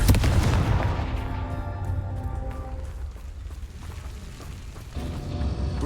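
A Confringo fire spell blast from the Hogwarts Legacy video game bursts in loudly with a booming, explosive crackle, then rumbles and decays over several seconds before a second swell near the end.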